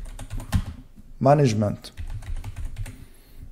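Typing on a computer keyboard in a Windows setting, with rapid light clicks running under a man's speech throughout.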